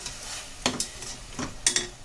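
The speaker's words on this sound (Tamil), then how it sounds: "இப்போ இதில் தக்காளி சேர்த்துக்கலாம். தக்காளியும் கொஞ்சம் நல்லா வதங்கணும்." Tomatoes sautéing in a pan for egg curry: a soft continuous sizzle broken by a few scraping, stirring strokes of a spatula against the pan, close and moderately loud.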